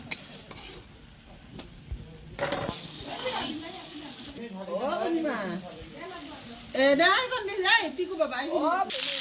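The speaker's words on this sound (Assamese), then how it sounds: "এয়া মাছৰ কাৰণে বিলাহী ভাজি আছে।" Tomatoes sizzling and frying in oil for a fish dish, a steady crackle under a spoon scraping the pan, with people talking nearby throughout and the voices growing louder toward the end.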